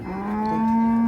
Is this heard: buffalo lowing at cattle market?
yes